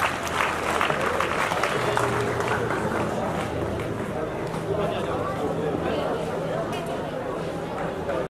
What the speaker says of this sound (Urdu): تالیوں کے ساتھ ان کا استقبال کریں اور یہاں سٹیج پہ تشریف لیں